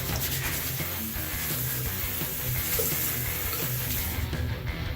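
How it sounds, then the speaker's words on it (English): Tap water runs steadily into a sink during glass cleaning, a continuous broadband splashing hiss that stays loud and even for the whole stretch, with no voices over it. "Get some water going."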